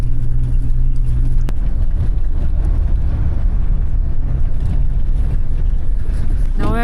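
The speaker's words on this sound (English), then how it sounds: "The wind is blowing the snow." Wind blowing snow across a mountain pass, heard as a loud, constant roar buffeting the microphone, with a vehicle engine rumbling underneath throughout.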